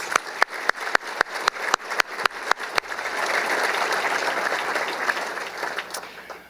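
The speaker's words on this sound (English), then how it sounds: "Round of applause for those coaches." An audience applauds coaches at a university athletics hall of fame induction ceremony: a run of single sharp claps first, then a broad, sustained round of applause that gradually tapers off.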